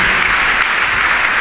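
A church congregation claps together in loud, dense, continuous applause that fills the room.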